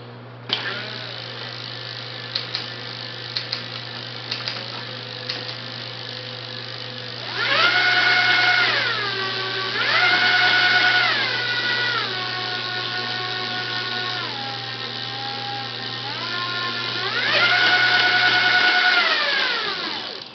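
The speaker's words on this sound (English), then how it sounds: "1200 watt bike motor, mounted to a 2005 Ellsworth Rogue" A 1200-watt Ego Kit electric hub motor on a 2005 Ellsworth Rogue downhill mountain bike spins freely, a loud steady electric whine that rises and falls in pitch as it revs up and down, with a low hum underneath and a few clicks early on.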